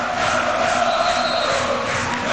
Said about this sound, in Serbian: Sada cela dvorana na nogama, navijaju i navijači Zvezde i navijači Pivovarne